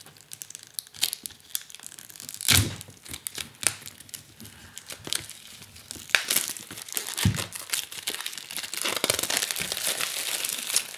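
Cardboard box and plastic wrap around an oracle card deck being opened by hand, with repeated crinkling, tearing and rustling bursts up close, no talking.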